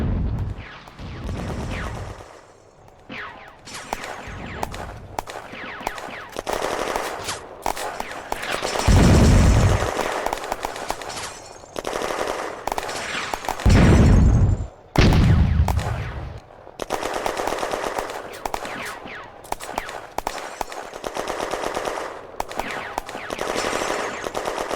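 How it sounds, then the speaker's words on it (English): Mortar and machine gun fire in the 1940 war game Firefight, set in an industrial zone: long rattling bursts of automatic fire broken by several heavy low mortar thumps, loud and dense throughout with brief gaps. "The mortar fire mission did not silence the German machine gun, and the mortars fire a repeat."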